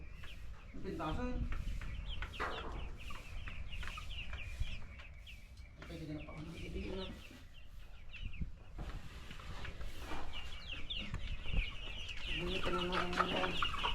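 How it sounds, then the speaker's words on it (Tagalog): Several chickens cluck and chatter in repeated bursts nearby, with faint voices talking underneath and a low outdoor background hum. "ito na yung kanyang mga manok oh"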